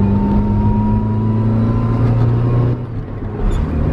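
Car engine revving steadily as the accelerator is pressed, a loud close drone with a dip near the end, no talking.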